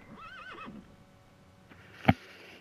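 A horse in Horse Club Adventures 2 gives a clear wavering whinny, followed after a pause by a single sharp hoof thud, fairly close with quiet background.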